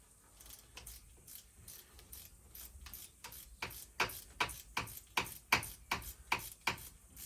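Ratchet wrench unbolting parts from a Mercury outboard engine with fuel pump issues: quick bursts of sharp metallic clicks, quiet at first and growing louder and more regular, close up with no talking.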